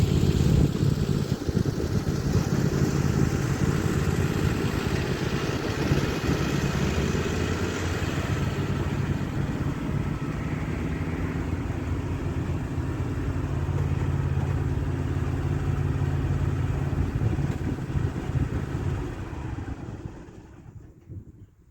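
A tractor engine runs steadily and close by while a last load of leaves is dumped into composting bins at a cabin, its low rumble constant throughout before fading out at the very end.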